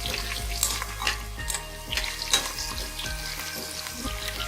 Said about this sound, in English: Roast the garlic for 30 seconds.